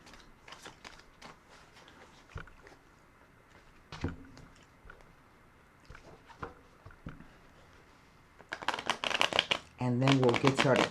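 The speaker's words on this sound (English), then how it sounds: "I'm just going to put another shuffle and rifle on the deck" A tarot card deck is shuffled and riffled nearby: scattered soft card flicks and taps for several seconds, then a loud, dense burst of rapid riffling near the end.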